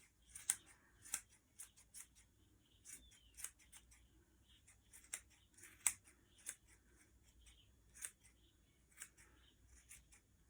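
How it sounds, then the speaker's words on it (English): Scissors trimming a round yarn pom-pom, with a run of crisp, quiet snips at irregular intervals, close but soft against a near-silent background. "you're just going to keep trimming all the way around for as long as you are happy that you've got a nice round pom-pom"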